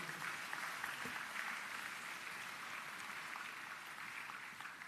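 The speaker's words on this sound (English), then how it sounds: "give all of them yet another round of applause" Graduation ceremony audience applauding graduates, a steady wash of clapping from a large crowd heard somewhat distant and faint, continuous throughout.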